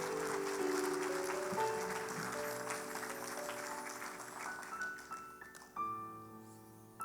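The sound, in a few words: congregation applause in church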